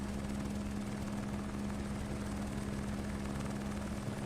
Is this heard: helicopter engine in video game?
yes